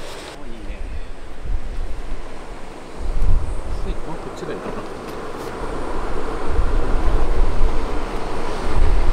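Ocean waves at a seaside campsite roll in and break as low, surging rumbles, heavily mixed with gusty wind buffeting the microphone.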